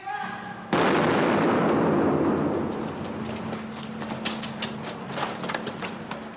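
A single gunshot fired by a gunman on a city street, a sharp loud crack that cuts in suddenly and rings out into a long decaying echo, with faint clicks and rustling after it.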